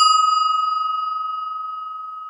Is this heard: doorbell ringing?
yes